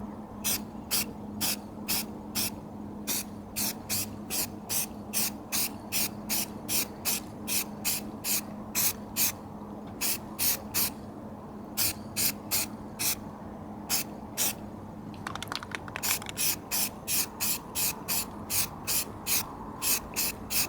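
A spray can sprays flat black touch-up paint onto the grille of a 1997 Ford F-150 in many short, regular hissing bursts, close and fairly loud, with a brief pause around the middle.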